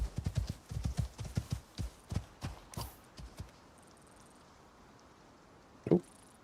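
Horse hooves clip-clop in a quick, close run of steps in the Icarus video game, fading out after a few seconds into near silence, with one brief thud near the end.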